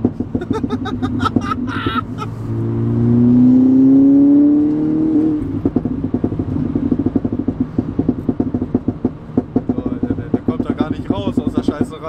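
A tuned 370 hp VW Golf 5 accelerating in fourth gear, its engine and exhaust rising in a loud droning pitch, then settling into rough, crackling rumble heard from inside the car.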